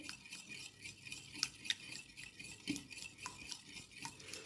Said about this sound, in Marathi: आता हे फेटत राहायचं। पूर्ण बबल्स झाले की झालं असं समजायचं।